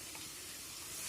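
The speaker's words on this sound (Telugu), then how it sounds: "ఇప్పుడు జింజర్ గార్లిక్ పేస్ట్ కూడా ఫ్రై అయ్యేంత వరకు ఫ్రై చేయండి." Ginger garlic paste frying in hot oil for a boiled chicken fry, a steady, dense sizzle and hiss that stays even throughout, with no voices.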